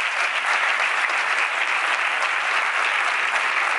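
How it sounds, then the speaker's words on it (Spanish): Steady, loud applause from an audience cheering a group of beginner runners, dense clapping filling the whole span without a break. "¡Fuerte aplauso para estos!"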